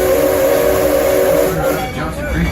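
A tourist train on the Texas Railroad at Six Flags rolls along with a steady steam whistle tone for the first second and a half, then fades into rumbling rail noise and faint chatter.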